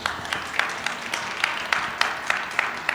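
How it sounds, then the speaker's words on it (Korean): Audience applause at a talk concert during a public-institution job fair, a steady patter of many hands clapping moderately loud in a hall, with no talking. "다시 한번 큰 박수 부탁드립니다."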